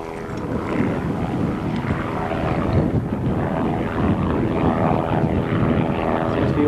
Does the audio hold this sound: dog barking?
no